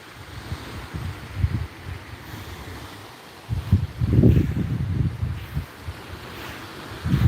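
Waves roll and break along a beach at Khanom, Nakhon Si Thammarat, Thailand, with gusty wind buffeting the microphone, surges swelling louder midway through; no voices.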